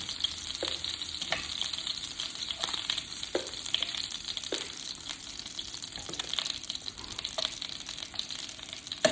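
Shrimp fries in browned butter in a pan, a continuous close crackling sizzle with scattered sharp pops across the whole stretch.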